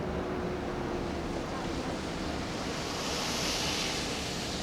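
A steady, dense rush of falling water from a high waterfall, a weeping wall, roars evenly throughout as a constant broadband wash with no breaks and no voices.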